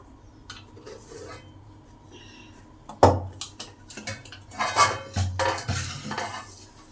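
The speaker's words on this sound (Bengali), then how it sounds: "এবারে প্রেসারটাকে তুলে নেব।" A pressure cooker being lifted and handled after cooking rice, a loud metal clunk followed by a series of rattling pot and lid clatters up close.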